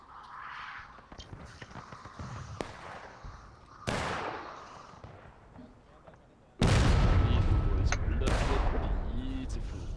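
Several loud cannon blasts from Civil War reenactment cannons boom out, one after another, followed by rumbling echoes and background commotion with distant voices.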